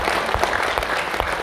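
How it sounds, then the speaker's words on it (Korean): A hall audience at a Korean PEN society general meeting claps steadily and briskly, a dense, even burst of applause. "큰 박수 좀 부탁드리겠습니다."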